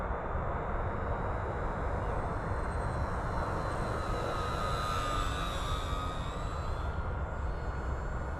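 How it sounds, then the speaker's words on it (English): An FMS Cessna 182 RC model airplane with a 1.5 m wingspan flies overhead at sunrise: a continuous electric motor and propeller drone, with a faint whine rising and shifting in pitch as it passes, steady and without talk. "God, how much fun this plane was to fly."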